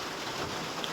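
Steady rain falls through a morning downpour, a dense, even hiss of drops hitting surfaces close by, with no voices.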